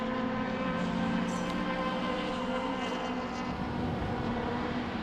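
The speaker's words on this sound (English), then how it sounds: "That's a Mark 1 Capri running a 2-litre engine." Mark 1 Ford Capri race car with a 2-litre engine at Sydney Motorsport Park in an Improved Production race, its steady engine drone running loud and continuous throughout.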